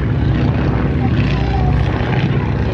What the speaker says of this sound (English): Radial engines lovely to hear.